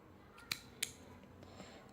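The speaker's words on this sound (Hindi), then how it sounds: "ये ऊन यहाँ से हम काट देंगे।" Scissors cut wool yarn during sock knitting with two quick, crisp snips, quiet and close, against near silence.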